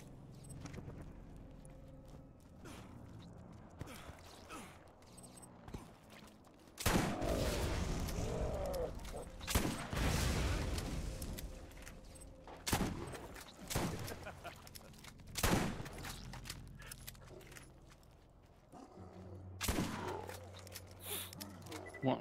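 Gunfire in the game Borderlands, with repeated sharp shots and bursts scattered across a busy battle, some heavy booms among them, over a steady background din.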